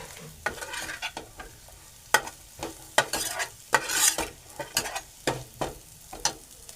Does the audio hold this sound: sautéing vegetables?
yes